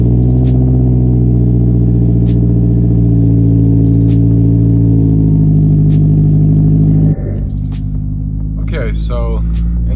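A car with Raceland coilovers that clunk at steering lock drives slowly on a test drive, its loud steady engine hum and rumble constant, then easing into a lower, rougher road drone with a few faint knocks near the end.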